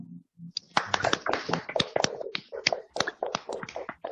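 A small group clapping for Mbak Priska in a classroom, a short burst of uneven close claps lasting a few seconds, with a brief murmur at the start.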